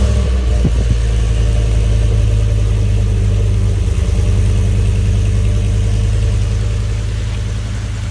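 A 2015 Ford F-150 XLT with a 5.0 V8 and single exhaust idles after a remote start, giving a loud, steady low rumble up close with no talking.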